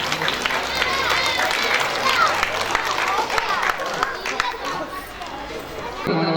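Audience clapping at a primary school centenary celebration, a steady crowd patter of applause mixed with murmured chatter and a voice speaking over it.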